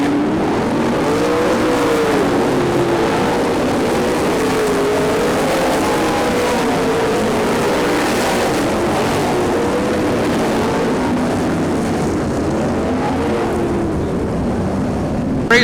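Race cars on a dirt track make a loud, steady engine roar, several motors droning and rising and falling in pitch together as the pack runs past, with no let-up.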